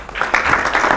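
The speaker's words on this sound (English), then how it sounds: "Let's give him a round of applause." Brief applause at a museum press conference, a short burst of clapping from the audience, fairly close and steady, with faint voices mixed in.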